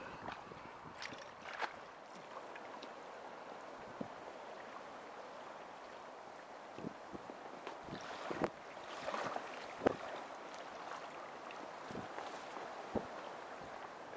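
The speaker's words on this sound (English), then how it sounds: "More of a steady wind turned up." Steady wind across a Shropshire carp fishing lake, a continuous soft rushing hiss with faint gusts and occasional small knocks and water sounds nearby, no speech.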